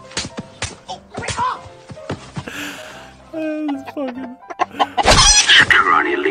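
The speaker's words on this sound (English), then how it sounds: "Oh, he kills a chicken even" Chickens cluck in a CS:GO match, with sharp bursts of squawking among in-game action, and people talk and exclaim over the birds.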